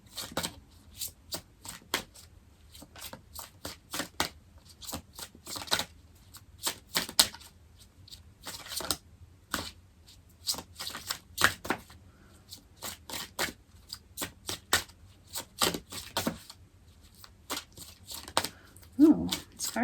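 Tarot guidance cards shuffled by hand, a long run of soft, quick riffling and flicking bursts in an irregular rhythm, close and fairly quiet.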